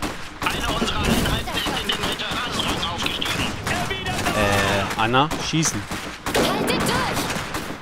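Rapid gunfire bursts and fusillades from the real-time strategy game Iron Harvest crackle in a dense battle mix, with in-game voices shouting orders and someone talking over the shooting.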